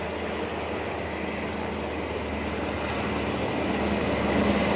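A steady, broad rumble of a long passenger train approaching beside the tracks builds slightly, continuous and fairly close, with no voices.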